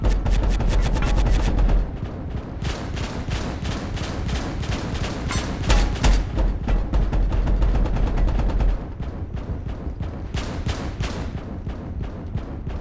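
Automated gun turrets in the video game Abiotic Factor fire in rapid, sustained bursts, a dense loud clatter of shots that rolls on for most of the stretch before thinning slightly toward the end, with no voices.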